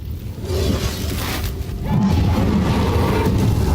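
A fire spirit enemy exploding in Eternal Strands, a deep booming blast with a crackling, shattering tail that swells and stays loud, rumbling on for a few seconds.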